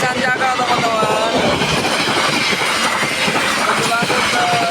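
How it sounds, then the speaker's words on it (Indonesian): The Sancaka passenger train, bound for Surabaya, rumbles through a level crossing close by, with rhythmic wheel clatter, a brief thin wheel squeal and a faint horn-like tone over a loud, continuous roar. "Kereta api Sanjaka teman-teman."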